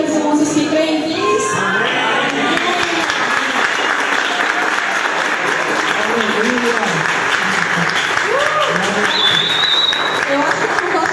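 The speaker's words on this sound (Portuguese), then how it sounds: "Vamos aplaudir esse dia." A church congregation applauds through a long stretch of steady, crowded clapping, loud and close, with voices and some cheering mixed in beneath the hands.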